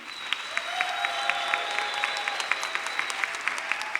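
Audience applause for a baritone at a narrated reading concert held during a Sunday afternoon church service, steady and moderately loud with rhythmic claps throughout, a faint sustained tone running underneath.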